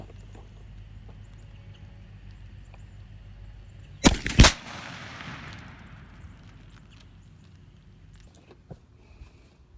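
A 28 gauge shotgun with a super full choke fires Federal 1 oz number 6 shot at a turkey target 40 yards out: a single sharp loud report followed by a quick second crack, then a short fading tail over quiet outdoor ambience.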